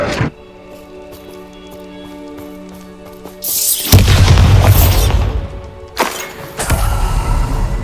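Bombarda spell blasts in Hogwarts Legacy on Xbox Series S: a loud deep boom erupts after a quiet humming stretch, then a second heavy explosion follows, with rumbling debris between them.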